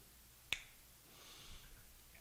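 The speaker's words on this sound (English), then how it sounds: "So we are going to speed that up real quick by just snapping my fingers" A single sharp finger snap rings out close and crisp in a quiet room, followed by faint low background noise.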